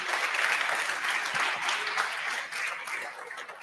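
A live audience applauds a guest named Cornet on the umbraCoffee show, a steady wash of clapping that holds for a few seconds and thins slightly toward the end.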